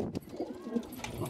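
Several pigeons coo in low, soft, overlapping calls close by, with a murmuring steady background throughout a short stretch.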